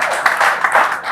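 Audience applause bursts out at a formal Uganda Law Society gathering: a short, dense spell of many hands clapping, steady and fairly loud, with a faint voice underneath.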